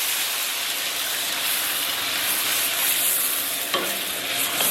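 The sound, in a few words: pork ribs stir-frying in a wok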